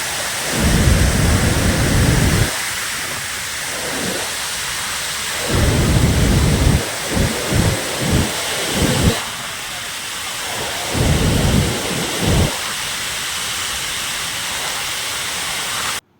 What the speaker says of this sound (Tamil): ஐந்து அருவிகளிலும் காட்டாற்று வெள்ளம் போல தண்ணீர் செந்நிறத்தில் ஆர்ப்பரித்து கொட்டுகிறது.